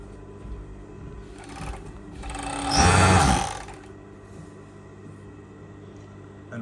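A Pegasus M952-17-4 high-speed 3-thread overlock machine whirs steadily, rising into a louder burst of stitching for about a second before settling back to a low hum, heard alone.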